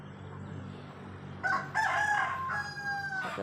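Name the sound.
turkeys gobbling in a backyard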